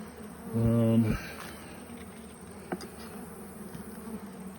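Honeybees at a farm beehive, with one loud close buzz passing for about half a second before fading, followed by a faint steady hum of insects in an outdoor setting and no talking.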